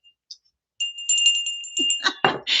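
A bright bell-like chime alert rings on a Christmas tarot reading livestream, with a sustained high tone and a few shimmering strikes, followed by a brief burst of other sound.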